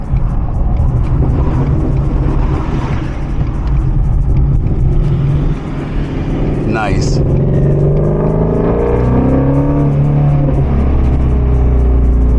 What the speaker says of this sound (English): Let's hear that downshift.